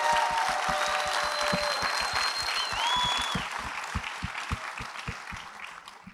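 An audience at a panel with drag queens claps in unison, sharp, regular beats about four per second, with cheering and whistles rising above the crowd before easing slightly toward the end.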